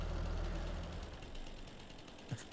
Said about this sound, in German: Jetzt ist der Motor wieder aus.